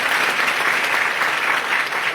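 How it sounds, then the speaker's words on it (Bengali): Sustained applause from a gathered audience at a religious satsang, a dense continuous clatter of many hands clapping steadily for the full stretch with no voices over it. "সবাই একটু জোরে হাততালি দেবেন।"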